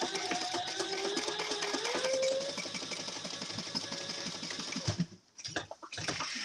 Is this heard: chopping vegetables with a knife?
no